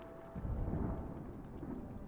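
Thunder from a storm in the video game The Banner Saga rolls as a faint, low rumble that swells briefly and fades, heard alone in the background.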